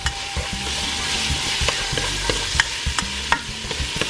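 Pozole ingredients stirred in a pot of hot oil, a steady loud sizzle with repeated scraping stir strokes throughout, no voices.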